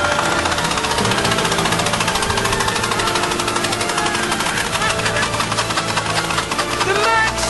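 A flooded Mercedes W124 engine with its spark plugs out coughs and sputters repeatedly while cranking, rough uneven bursts, loud and close.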